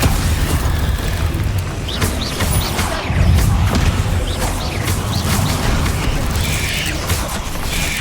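Dense, continuous rumble of booming spell blasts and thuds from Confringo blasting curses in Hogwarts Legacy, a loud unbroken barrage of overlapping explosions with no clear gaps.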